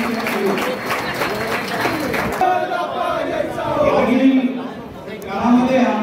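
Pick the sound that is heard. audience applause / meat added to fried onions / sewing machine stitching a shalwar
audience applause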